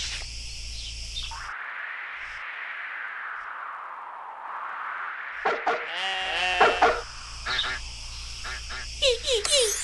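A sheep bleats within the preschool animal learning game Monkey Preschool Animals, a single drawn-out cry preceded by a chime and followed by bright cartoon sound effects and a short spoken word.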